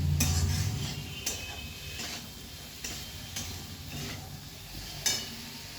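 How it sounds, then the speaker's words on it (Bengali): Fried potatoes tip into a pan of red lentil curry with a scrape and clatter, then a spoon stirs through with soft scrapes and a few sharp taps against the pan, all close and without talk. "আমি এবার দিয়ে দিচ্ছি এই ভেজে রাখা আলুগুলো"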